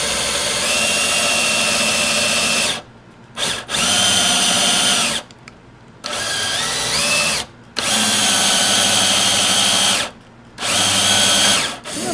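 A power drill bores a hole into a Martin acoustic guitar in several whining bursts with short pauses between them. The motor pitch shifts as it works through the wood, loud and close, with no speech.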